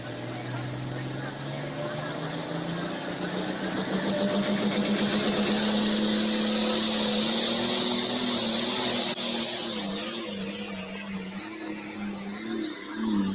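A pulling tractor at a tractor pull event roars with a strong engine whose pitch climbs steadily and then wavers, loud and sustained with a hissing rush on top, while an announcer talks over it.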